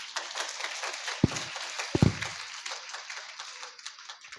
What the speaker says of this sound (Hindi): सो आइए जोरदार ताली बजाएं।